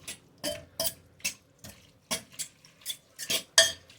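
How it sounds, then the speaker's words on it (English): A spoon scrapes and clinks against a pot as butter is stirred through cooked fettuccine noodles, a steady run of about a dozen close, sharp metallic strokes with no talking. "Just stir that around on your noodles."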